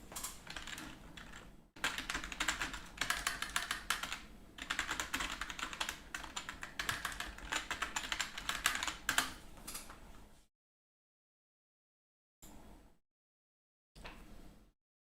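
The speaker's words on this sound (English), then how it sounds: "I can see you typing something" Fast typing on a computer keyboard, dense clattering bursts of keystrokes close by with short pauses, stopping around ten seconds and followed by two brief spurts after silence.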